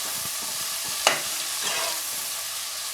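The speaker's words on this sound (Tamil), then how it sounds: "மசாலா நல்லா பொரிஞ்சு வரும்போது" Masala spices frying in a pan for potato biryani with green chillies and onion, a steady broadband sizzle with a brief sharp clink of a spoon against the pan, close and moderately loud, no talking.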